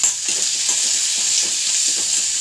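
Onion, mustard seeds and curry leaves sauté in hot oil with a close, steady bright sizzle, broken by soft rhythmic scrapes of a stirring spoon against the pan.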